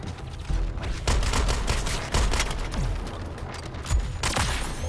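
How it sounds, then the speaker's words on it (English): Shotgun blasts in the Suicide Squad: Kill the Justice League video game, several heavy booming shots spaced about a second apart, loud and close amid battle noise. "Time to switch to shotgun."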